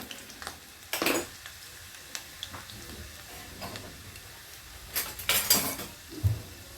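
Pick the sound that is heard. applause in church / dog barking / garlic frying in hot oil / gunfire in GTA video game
garlic frying in hot oil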